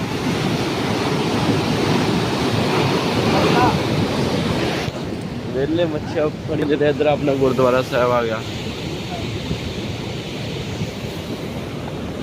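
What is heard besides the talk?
canal water rushing past leaking barrier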